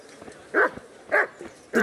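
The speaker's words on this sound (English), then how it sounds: "The dogs scare me in there." A dog in Kingdom Come: Deliverance barks three times at fairly even intervals, each bark short and moderately loud against a quiet background.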